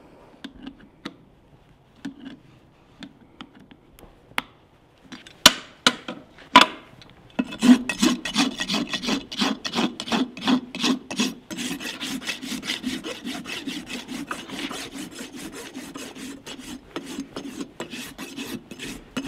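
A farrier rasps a horse's hoof wall smooth, taking off the high spots: a few scattered scrapes give way to a steady run of close, rhythmic rasping strokes, loud and near, with no talk.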